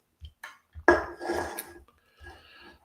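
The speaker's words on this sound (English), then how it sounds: "Put the glass here." A glass of beer set down on a table at home, with a few light clinks and a solid knock of glass on the tabletop, close and fairly quiet, with no talking.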